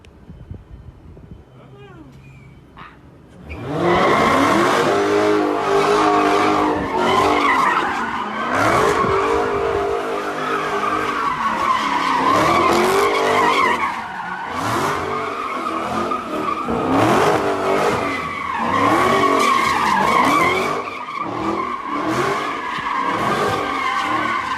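A Dodge Hellcat drifting and doing donuts: a loud, close engine revving hard with long, continuous tire squeals and skids that rise and fall as the car swings around, with voices talking over it.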